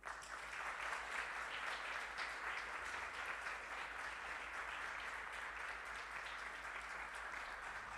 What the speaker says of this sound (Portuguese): Você pode aplaudir o Senhor por causa disso?